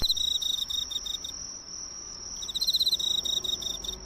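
Crickets sing on an autumn night in rapid, pulsing chirps, pause briefly, then resume with quick trills. The calls are near and clear, with faint background hiss.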